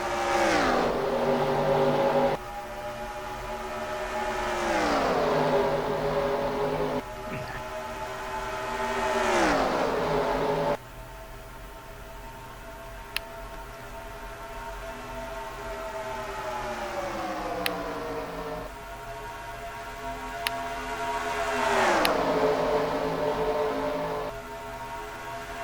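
Race cars at a club race on an NRLOA event track, several engines swelling loud and fading as they pass in repeated waves, each roar sliding down in pitch, with a steady engine drone underneath and no talk.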